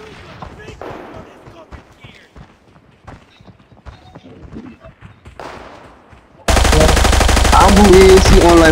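Automatic gunfire in Arena Breakout bursts in abruptly and loudly after a long stretch of quiet, scattered background sounds, then continues as a rapid, dense rattle of shots right up to the end.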